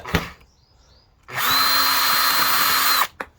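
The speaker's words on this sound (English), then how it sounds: "my trusty screwdriver, trusty Makita screwdriver to" A cordless Makita power screwdriver spins out the fasteners of an Audi Q7 undertray. One close, loud motor whine runs for about two seconds at a steady pitch and stops cleanly. Faint clicks come just before and after it.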